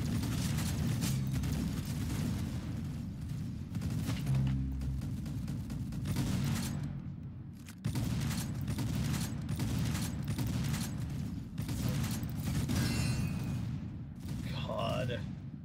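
Rapid shotgun blasts from a shooter game, Arsenal, crack out in a steady run of sharp shots, partly masked by a person talking over the action.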